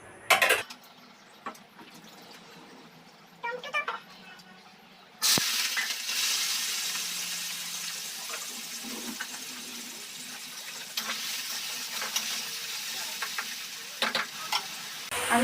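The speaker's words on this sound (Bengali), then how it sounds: "এবার তেলটা গরম হয়ে গেছে, আলুটা ছেড়ে দিই ভাজবার জন্য" Potatoes dropped into hot oil set off a sudden loud, sustained sizzle after a few quiet clinks, and the frying keeps hissing steadily with occasional stirring knocks and faint voices beneath.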